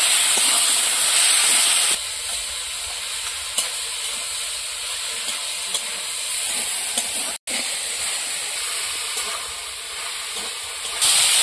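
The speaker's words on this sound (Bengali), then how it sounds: "বেগুনটা লবণ হলুদ দিয়ে একটু ভেজে নেব।" Eggplant seasoned with salt and turmeric frying in a pan, a continuous hissing sizzle with occasional soft stirring scrapes, close and steady, briefly cutting out partway through.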